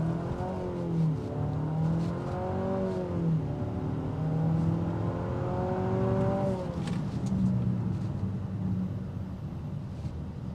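A 2026 Infiniti QX60 with a VC-Turbo four-cylinder accelerates in Sport mode, its engine hum rising in pitch through gear changes, heard fairly faintly from inside the cabin without speech.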